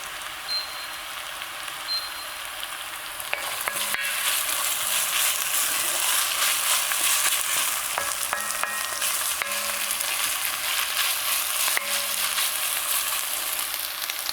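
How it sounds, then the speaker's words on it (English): Onions frying in hot oil for a zucchini, chickpea and yogurt dish, giving a steady broadband sizzle that swells louder partway through, with light clinks of utensils now and then and no talking. "But the longer onion is in oil and gets roasted, the better it tastes."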